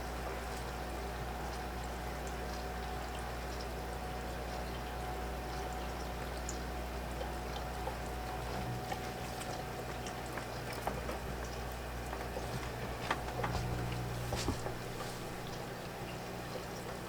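Water pours steadily into a betta fish tank, a soft continuous trickle and bubbling over a low background hum, with a few faint splashes and clinks near the end.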